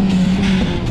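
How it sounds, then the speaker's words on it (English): A Toyota Starlet engine drones steadily at a high rev at a car cruise, close and loud, with a sustained low hum throughout the second. "What's getting revved up? Oh, it's a Toyota Starlet."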